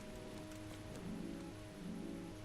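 Steady rain falls without a break in Kingdom Come: Deliverance, a soft continuous patter heard alone, with a low tonal hum running underneath.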